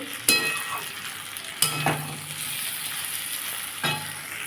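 Fish curry masala fries in oil for a fish broth with potato, drumstick and teasel gourd, hissing and sizzling steadily. Three loud scraping strokes of a spatula against the pan break through the sizzle, and no one speaks.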